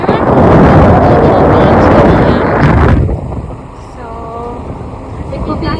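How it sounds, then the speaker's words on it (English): Strong wind roars across the front deck of the Chi-Cheemaun ferry near Tobermory, a loud buffeting rumble on the microphone that drops away after a few seconds, leaving quieter open-air noise with a faint voice. "It's so windy up here."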